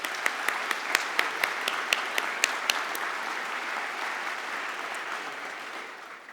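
A crowd applauds the award winner Genome New Zealand at the Science New Zealand Awards, steady dense clapping with a few sharp close claps early on, sustained across the whole stretch and easing slightly toward the end.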